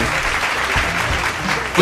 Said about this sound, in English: I'd like everybody to give a round of applause for Sean Toure